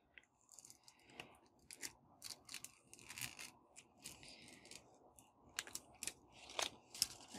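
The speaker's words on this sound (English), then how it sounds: "pull off my transfer tape." Transfer tape peeled off a watercolour alcohol-ink tumbler in short, crackly bursts, a quiet, close, uneven series of sticky ripping and crinkling sounds with brief pauses between pulls.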